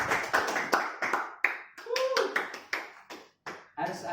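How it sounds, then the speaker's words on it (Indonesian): A classroom applauds a student with a burst of uneven, scattered hand claps lasting a few seconds, and a voice briefly sounds among them. "Beri sedikit aplaus kepada dia."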